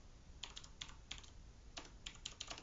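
Quick bursts of keystrokes on a computer keyboard while a Git command is entered, clustered into short typing runs separated by brief pauses, close and fairly quiet with no talking.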